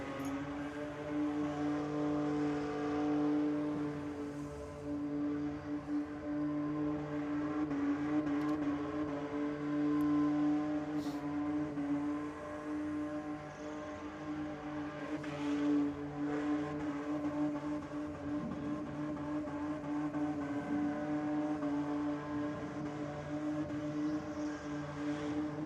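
A drag car holds a long burnout at Sydney Dragway, its engine a steady, fairly distant droning roar that barely changes across the whole stretch.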